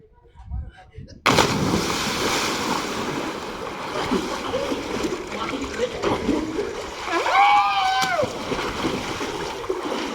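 People jumping into water to swim alongside a JCB, a sudden loud splash followed by sustained churning and splashing water, with voices calling out over it.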